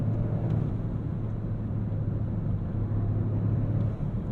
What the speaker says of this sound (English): I like that raspy rumble, along with the blow-off noise.